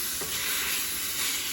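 Onions frying in steak fat in a cast iron pan while truck camping, a steady close sizzle with faint stirring scrapes and no talk.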